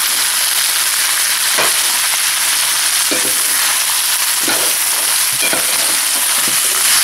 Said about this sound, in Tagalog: After natin mag-gisa yung kalabasa, pwede na natin i-add yung coconut meat.